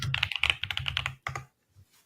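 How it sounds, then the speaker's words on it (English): Rapid typing on a computer keyboard, a close, dense run of crisp key clicks for over a second, then a brief pause, a short final burst and a few soft taps at the end. "I think everybody heard you typing."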